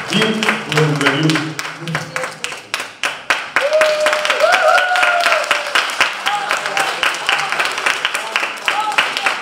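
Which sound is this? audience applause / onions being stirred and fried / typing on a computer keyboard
audience applause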